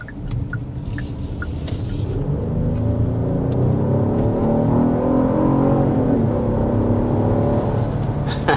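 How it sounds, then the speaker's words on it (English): A 2025 Genesis GV80 Coupe engine accelerates hard, a loud, close rising drone through upshifts inside the cabin, with a few faint clicks at the start. "let's go ahead and start with the hard acceleration"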